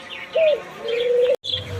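Soft, low cooing of doves in short repeated phrases, mixed with higher chirps and a sharp click near the end.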